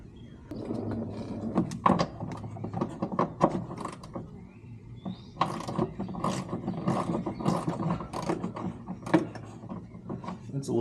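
A ratchet wrench clicks away as it loosens the nuts holding the shock on a Dodge Challenger, giving quick bursts of ratcheting with short pauses between them, with mechanical clatter around it.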